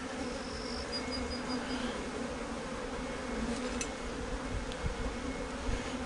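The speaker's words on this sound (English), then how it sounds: "there's bees flying to that cage thinking the queen might still be there" Steady buzzing of honey bees flying close around a queen cage, a continuous droning hum with occasional louder passes.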